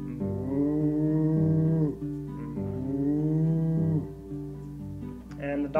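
A man imitates a cow in a sung children's song, giving two long drawn-out moos with a brief break between them, close and clear, followed by a short vocal sound.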